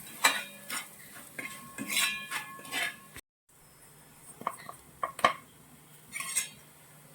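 A spoon scrapes and clinks against a metal pot while chilli powder is roasted for a Kuttanad-style fish curry, giving intermittent close metallic taps and stirring scrapes, quiet and without talk, with a short silent gap midway.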